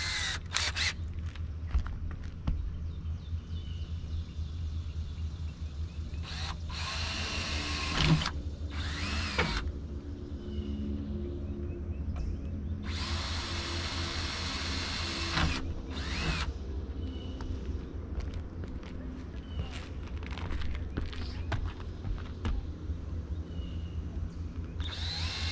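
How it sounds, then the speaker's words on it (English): A drill whines steadily through the clip with a constant motor hum, interrupted by several bursts of harsh, broadband grinding as the bit bores a small pilot hole through metal. "I don't want a large diameter drill, just something to do a pilot hole through the metal."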